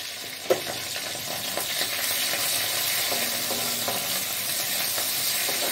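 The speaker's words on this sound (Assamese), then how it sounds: "তো এতিয়া দি দিম মই কাটি থোৱা পিঁয়াজ এটা" Chopped onion goes into hot oil already holding cumin and chili, hitting with a brief clatter before settling into a steady, loud sizzle and frying hiss with light stirring.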